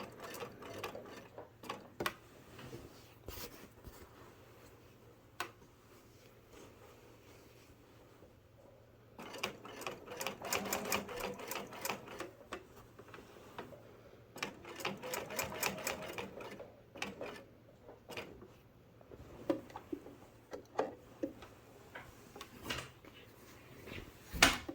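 Sewing machine stitching a patch onto a jacket, quiet rapid needle chatter in several runs with pauses and soft handling clicks between, fairly faint and close.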